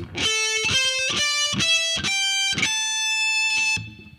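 Heavy metal electric guitar, distorted, runs a fretted note pattern an octave higher, with seven or eight crisp picked notes climbing in steady succession and a final ringing note that cuts off, loud and alone.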